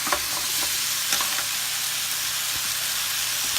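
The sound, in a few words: rice being added and stir-fried with pork in a pan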